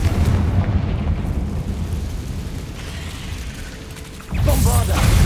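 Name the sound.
Confringo spell blast from Hogwarts Legacy video game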